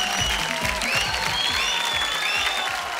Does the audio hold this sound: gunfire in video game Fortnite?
no